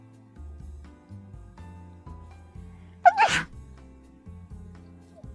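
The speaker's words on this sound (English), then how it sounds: "Oh no, I have to sneeze." A single sharp, close sneeze bursts out in the middle of a quiet stretch with soft low background music.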